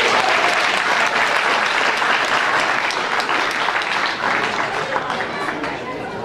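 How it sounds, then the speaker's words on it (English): A church audience at a Christmas musical gives the children loud, continuous applause that starts strong and slowly tapers off, with some crowd murmur beneath the clapping. "Give them one more round of applause."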